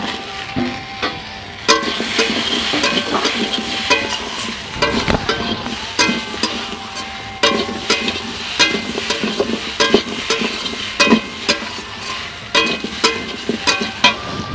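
Vegetable curry with chilli powder and soya chunks being stirred in a pan. A loud, close sizzle runs throughout, broken by frequent sharp clinks and scrapes of a spoon against the metal, with no voices.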